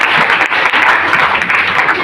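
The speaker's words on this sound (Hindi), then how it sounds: "एक बार शानदार ताली अपने लिए" An audience claps steadily throughout, a dense, loud wash of applause from a room full of people at a home marketing meeting.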